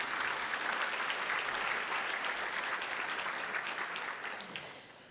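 A county event audience applauds the Seminole County commuters, a full, steady clatter of many hands that gradually fades toward the end.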